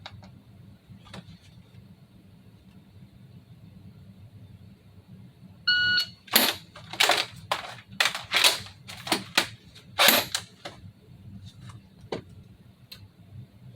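Airsoft shots from a Cybergun FN P90 1:1 scale replica, a burst of sharp, close snapping pops in irregular rhythm that then thins to a few scattered clicks over steady low background hum.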